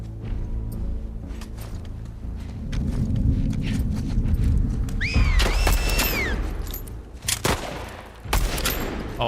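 Gunfire in The Last of Us Part 2: a steady crackle of rapid shots over a low rumble, with a few sharp, louder cracks near the end.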